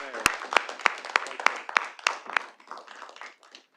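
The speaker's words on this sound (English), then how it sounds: "on behalf of the city of Little Rock, we appreciate you and just want to give you a round of applause" A small audience at a Little Rock city board meeting gives a round of applause, a sparse handful of distinct, fairly close hand claps in an uneven rhythm that thins out and fades toward the end.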